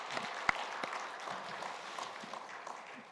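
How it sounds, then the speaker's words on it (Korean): Congregation applauding the church choir at a Sunday worship service, a steady, fairly soft wash of clapping that continues for the whole stretch, with one sharper clap near the start. "박수 한번 해봅시다."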